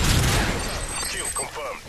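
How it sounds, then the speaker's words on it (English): A Predator missile strike in the Modern Warfare 3 video game lands as a dense, rumbling blast at the start, fading into a rough tail while a voice talks over it. "Predator missile inbound."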